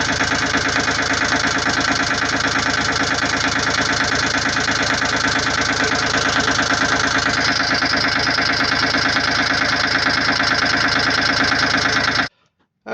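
A Volvo Penta 2003 diesel marine engine fires up and settles into a steady, loud, close idle with a busy knocking rhythm, then cuts off abruptly near the end.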